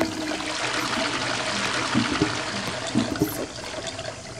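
A toilet flushes in a stadium restroom, a steady rushing wash of water close by with gurgling bursts toward the end and no voices.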